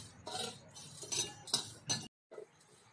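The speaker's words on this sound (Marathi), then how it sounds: "तर हे 5 मिनिटं आम्ही असे गरम करूया तीळ आणि साबुदाणे." Sesame seeds and sago stirred in a pan over heat, a series of close, irregular scraping clinks and rattles of a spoon against metal, ending in a brief pause and a few softer stirs.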